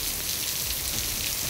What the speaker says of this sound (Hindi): गुजरात और आसपास के इलाकों में कहीं तेज कहीं हल्की बारिश हो रही है।